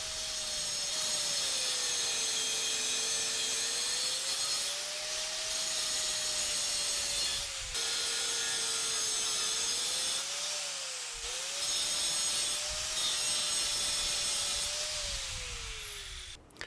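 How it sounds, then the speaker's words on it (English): An angle grinder cutting through a metal bolt held in a workbench vise, a loud continuous high whine with slight shifts in pitch as the disc loads and eases, running close for most of the stretch with brief dips. "I've got an angle grinder for that too"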